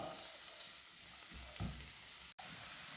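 Onions fry in a pan until browned, producing a soft, even sizzle that stays faint throughout. There is a slight swell of stirring noise midway and a brief dropout near the end.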